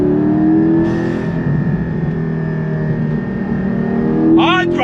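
A Porsche Cayman 718 GT4 engine pulls hard on throttle toward 7,000 RPM, a loud, sustained rising drone from inside the cabin, with a voice speaking over the end.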